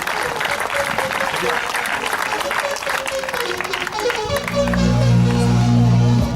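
Crowd at a velodrome cycling event applauds a young French rider, dense clapping and cheering under an announcer's voice, then a loud jingle with a low musical tone cuts in near the end.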